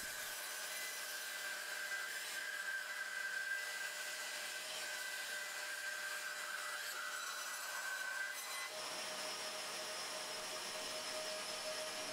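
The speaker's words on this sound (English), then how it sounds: "Then over at the bandsaw, I cut a wavy line right down the center of it." A bandsaw cuts a wavy line through honey locust wood, giving a steady, even whine with a faint tonal hum that drops away near the end of the cut.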